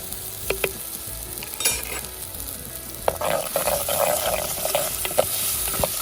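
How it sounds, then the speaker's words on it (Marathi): Chutney fries in oil over a wood-fired stove, a steady close sizzle broken by spoon scrapes and stirring clatters against the pan. "तर ही चटणी छान आधी तेलात परतून घ्यायची"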